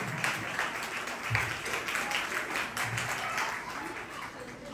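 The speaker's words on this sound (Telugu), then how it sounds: "బిగ్గరగా చప్పట్లు కొడదాం" A congregation at a Christmas celebration applauds, with many hands clapping in a dense, sustained wash that stays steady and moderately loud, and faint voices underneath.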